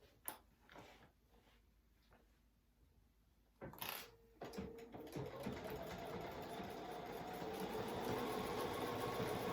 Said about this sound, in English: we're going to sew all the way down one side, all the way across the bottom, and back up the side